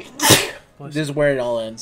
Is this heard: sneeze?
yes